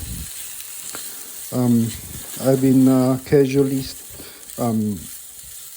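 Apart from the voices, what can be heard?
stir frying food in a pan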